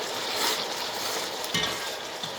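Onions and spices frying in a pan for a fish and tomato curry, a soft, steady sizzle with a couple of stirring knocks, close by and without voices.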